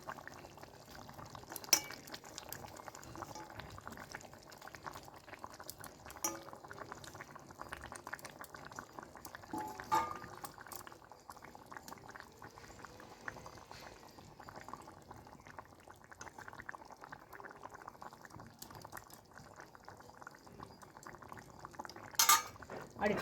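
Fried chicken tarkari simmers in a pot, giving a soft, steady bubbling with occasional clinks of a utensil and lid, fairly quiet throughout.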